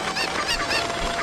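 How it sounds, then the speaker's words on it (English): A Cucco chicken from a Zelda game gives a short, harsh honking squawk, two or three nasal cries packed into a loud second. "Beating up on helpless chickens is a guilty pleasure in the Zelda games."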